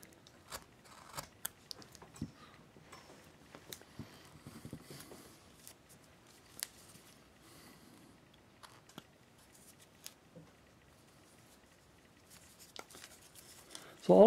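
A chisel and V-tool carve wood on a bust, giving scattered faint, sharp cuts and crisp snicks at irregular intervals, close and quiet, with a louder knock at the very end.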